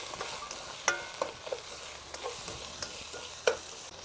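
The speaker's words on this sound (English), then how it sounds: "Give it a stir." Curry beef for a Trinidad roti is stirred in a pot with a spoon, giving a soft, low sizzle broken by a few sharp clinks and scrapes, close and unhurried, with no voices.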